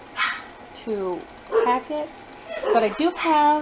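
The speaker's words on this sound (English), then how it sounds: "excuse my dogs in the background." Dogs bark and yip in the background of a home kitchen where fig jam is being made, short sharp bursts scattered across the clip while a person keeps talking over them.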